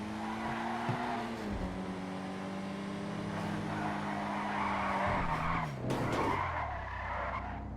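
Tires of a Dinka Blista Kanjo compact car skid and squeal as it fishtails in Grand Theft Auto Online, with long wavering screeches over a steady engine drone, close and continuous.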